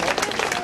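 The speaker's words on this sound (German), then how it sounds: "ich glaube, das ist auch ein Applaus wert" Dense crowd applause fills a short stretch at an outdoor vigil on a town square, many hands clapping continuously at close range and fairly loud, with voices mixed in.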